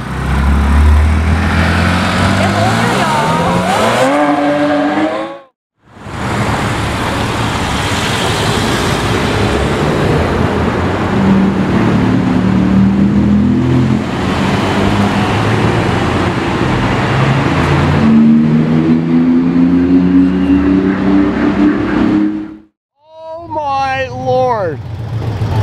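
Two Porsche Carrera GTs with V10 engines rev loudly at a car gathering, with high rising engine wails and sustained roaring separated by brief silent gaps, while people talk.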